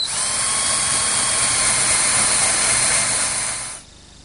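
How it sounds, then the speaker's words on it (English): Drill boring about half an inch into wood for a Queen Anne table with a 1/4-inch brad point bit, a loud steady close whine held for several seconds before cutting off. "So now I can take this 1/4-inch brad point bit and drill in about a 1/2 inch."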